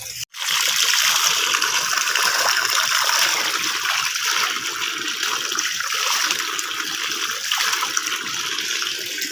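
Mountain spring water pours steadily from a hillside source, a continuous close splashing rush that holds at an even loudness after a brief pause at the start, with no voices over it.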